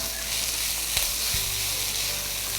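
Avalakki (flattened rice) mixture with grated coconut and cucumber being stir-fried in a pan, giving a steady close sizzle with a couple of brief scraping knocks from stirring.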